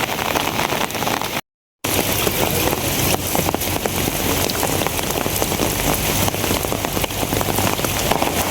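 Heavy rain falls steadily on surfaces around a house, a dense, loud hiss with scattered drops spattering. A low engine-like hum sits beneath it, and the sound cuts out briefly near the start before resuming unbroken.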